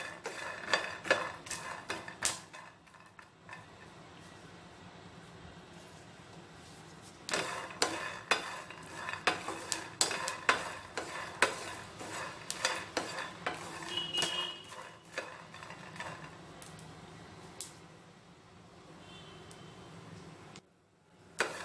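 Peanuts being dry-roasted in a pan for chutney, stirred continuously with a utensil that clinks and scrapes in rapid rattling bursts, close and fairly quiet, with brief pauses.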